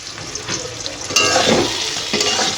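Poppy seed paste stirred into a pointed gourd curry in a pan, with close, steady scraping and stirring over a soft sizzle that grows a little fuller partway through, and no talking.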